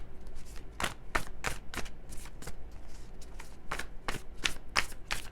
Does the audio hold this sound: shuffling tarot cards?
yes